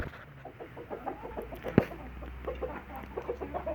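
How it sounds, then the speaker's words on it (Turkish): Several chickens cluck steadily nearby in a busy, overlapping chorus, with one sharp knock partway through. "kaç tane tavuğumuz kaldı bizim acaba?"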